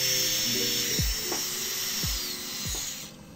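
An electric nail file (e-file) drill spins at a setting of 35, giving a steady, thin high-pitched whine with a few soft low clicks and bumps beneath it. It is faint and continuous, then cuts off near the end.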